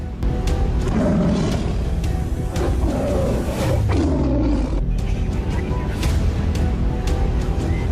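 A man-eating tiger in Bagaha, Bihar, lets out deep, loud roars in several rough bursts over a dense, steady wash of background noise.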